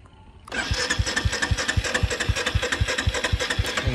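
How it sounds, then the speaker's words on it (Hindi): The engine of a Royal Enfield Meteor 350 motorcycle cranks over in a steady, rapid rhythm of pulses, loud and close, without catching. "अगर मैं स्टार्ट करने की कोशिश करूँ तो बाइक भाई स्टार्ट नहीं होगी।"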